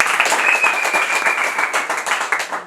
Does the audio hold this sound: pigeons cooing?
no